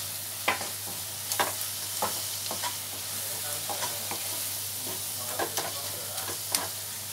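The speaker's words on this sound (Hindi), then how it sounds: "इसको भी हम फ्राई होने देते हैं।" Ginger garlic paste frying with spices in a pan while masala cooks for a spicy okra (bhindi) dish, giving a steady soft sizzle with intermittent scraping stirs, fairly quiet and close, no talking.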